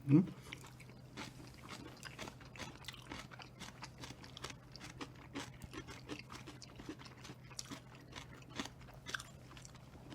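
Someone eats napa cabbage kimchi at a home meal, producing faint, steady wet chewing and crunching bites throughout, close to the mic, over a low constant hum.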